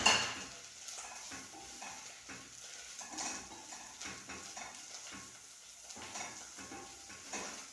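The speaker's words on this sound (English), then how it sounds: "What I normally do is add the onions. I'm adding the onions." Onions sizzle and fry in a pan in a home kitchen in Uganda, with soft stirring scrapes and occasional utensil clinks over a quiet, continuous crackle.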